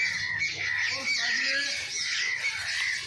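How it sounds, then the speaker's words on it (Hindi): Several birds squawk and call repeatedly over a steady outdoor garden background, their voices overlapping at a moderate distance. "परिंदों की आवाज़ कितनी प्यारी आ रही है।"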